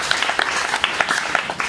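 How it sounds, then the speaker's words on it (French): Applause for a choir at a funeral wake in Kinshasa, a short burst of scattered clapping from a gathered crowd, moderately near, with no talking over it. "Nous pouvons tout de même applaudir pour eux."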